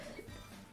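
After a near-silent pause, a single short, sharp cough bursts out abruptly and close by at the very end.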